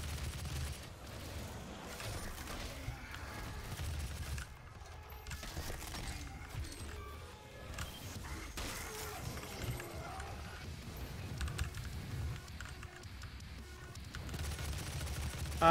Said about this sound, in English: The heavy machine gun is like the best weapon against imps.